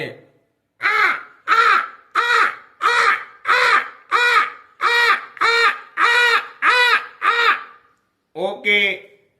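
A person mimics a crow, producing a rapid run of about ten harsh caws in even rhythm, then a short pause and two more, close and loud.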